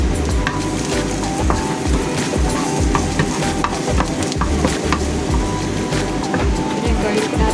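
Garlic toasting in oil in a frying pan, with a continuous loud sizzle and the repeated scrape of a utensil stirring it, close up.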